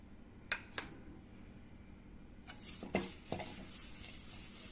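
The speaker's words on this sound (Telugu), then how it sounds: "మనం తిప్పుకుంటే ఆకులు గలగల సౌండ్ వస్తాయి." Dry leaves rustle and scrape in a pan as they are stirred, with a few sharper clinks and scratches, close up and fairly quiet.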